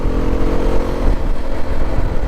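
A Hero Xpulse 210 motorcycle on a trail ride gives a loud, steady exhaust note, a close, continuous engine drone with rough low-end pulsing throughout and no speech.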